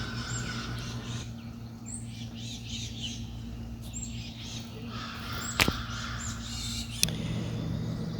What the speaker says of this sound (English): These woods are teeming with birds. There's a little titmouse up in the tree there.